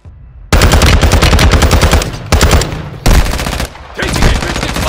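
Loud, close automatic gunfire from Call of Duty Warzone Resurgence, sustained bursts of rapid shots broken by short gaps, filling the whole clip.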